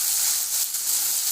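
Ginger, garlic and dried chillies fry in hot oil with a steady, even sizzle and hiss that stays close and constant throughout, with no voices.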